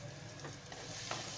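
Garam masala stirred into a frying dal tadka, soft sizzling with scraping stirring strokes in the pan, quiet and close, with no voices.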